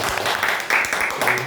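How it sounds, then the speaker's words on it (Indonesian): Applause from a group of people at a gathering, a steady close patter of clapping with someone talking over it. "Tepuk tangan dong."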